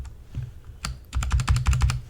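Close, crisp clicking of computer keyboard keys, a few scattered taps followed by a quick run of rapid keystrokes, all played alone in a quiet room.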